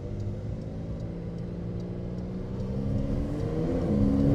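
A 2023 Porsche 911 GTS with a PDK transmission accelerating from the cabin, a steady engine hum climbing smoothly in pitch and growing slightly louder as it pulls.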